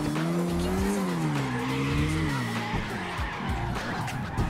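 Car tires skid and squeal continuously while drifting in the CarX Drift Racing Online video game, with a wavering engine tone throughout and no talk over it.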